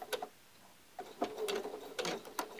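A sewing machine takes a few slow stitches back over a Y seam, making soft, close mechanical clicks and brief whirs in short separate bursts.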